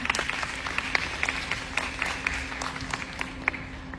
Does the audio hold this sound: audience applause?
yes